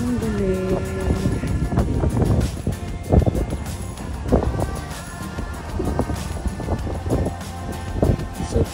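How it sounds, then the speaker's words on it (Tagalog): Strong wind gusts on a Boracay beach batter the microphone in loud uneven bursts and rumbling buffets, continuous throughout with no clear speech. "Super hangin."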